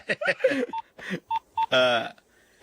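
Three short electronic cell phone keypad tones beep in quick succession between stretches of talking, clear and close.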